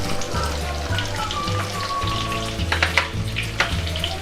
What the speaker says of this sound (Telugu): ఇవి ఉల్లిపాయ ముక్కలు వేస్తున్నాం.